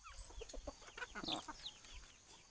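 Chickens cluck and murmur softly in a small tribal village among hills and valleys, several short bird calls overlapping at a modest distance, faint and scattered over a quiet outdoor background.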